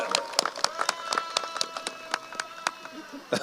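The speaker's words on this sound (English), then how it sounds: "Let's give them a round of applause, because parents, this is your day as well." Graduation audience at a Richland One Middle College ceremony claps for the parents, a brisk run of sharp hand claps from a smallish crowd at moderate distance, fairly quiet.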